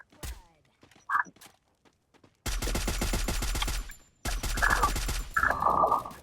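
Video game gunfire crackles in two sustained bursts of rapid automatic fire, preceded by a few isolated shots. The shots are loud and close, with faint voices at the start.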